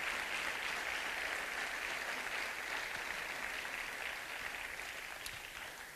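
A church congregation claps in a sustained round of applause offered to Jesus during a sermon, a steady, even wash of hands that fades slightly toward the end, with no talking.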